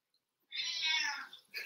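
A cat meows once during an online lecture, a single drawn-out meow close to the microphone lasting about a second, followed by a brief fainter sound, with no talk.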